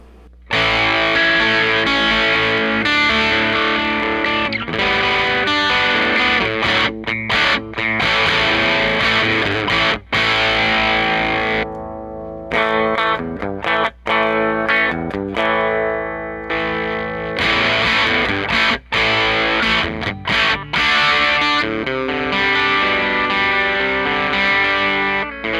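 An electric guitar played through a modified Boss DS-1 distortion pedal, with tone and distortion knobs set at midpoint, gives loud, saturated riffs and sustained chords with brief gaps between phrases.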